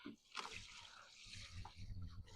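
Water poured into a compost bin holding soil-like compost and a compostable bag makes a soft, close splashing and gurgling wash, quiet overall and unbroken by talk.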